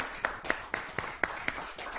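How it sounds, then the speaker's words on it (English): Applause from a magic show audience for a volunteer named David, heard as a steady run of crisp claps about four per second, fairly close and even in loudness. "Give David a round of applause."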